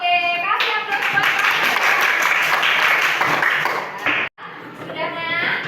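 Classroom applause from a group of students, a dense burst of clapping lasting several seconds with a brief break, and children's voices mixed in.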